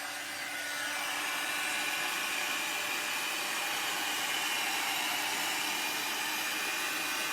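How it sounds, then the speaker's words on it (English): A single-speed paint dryer blows hot air, a steady loud whooshing hiss that holds unchanged throughout with no talking. "I do have a paint dryer, and it gets kind of hot. So I'm going to turn that on and see what happens."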